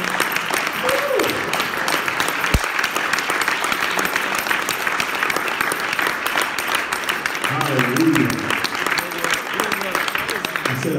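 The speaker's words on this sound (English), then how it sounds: "Come on, keep that applause going. Come on, clap your hands for Dr." A congregation claps for Dr. Connor at a church gathering, loud continuous applause running the whole length, with voices calling out and a speaker heard over the clapping.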